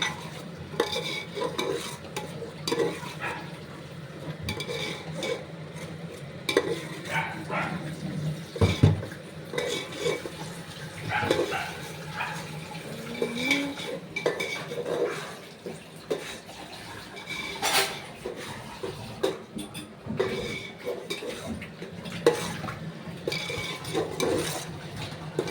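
Tomato gravy for Ambur biryani is stirred in a pot, with repeated scraping and clinking of a ladle against the metal and a faint sizzle underneath, close and irregular in rhythm.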